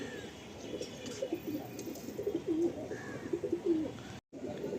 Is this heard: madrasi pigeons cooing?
yes